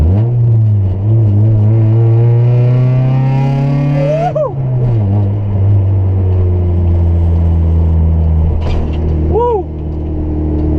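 A Honda Civic Si EG hatchback engine revs hard from inside the cabin, its pitch climbing steadily through the gears, dropping sharply at a shift and rising again, loud and close.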